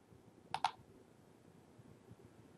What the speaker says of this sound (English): I'll go ahead and click decline